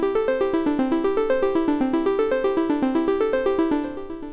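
Programmed synth pattern looping on the Teenage Engineering OP-1's endless sequencer, a steady, rapid stream of bright, evenly pulsed notes that holds its level, then thins and fades in the last moment, with nobody talking.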